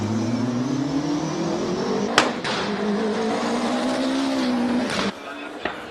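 A BMW E46 M3 race car at the Cape Town hill climb revs hard and close, its engine note climbing through the gears, with a sharp crack midway and a sudden drop-off near the end.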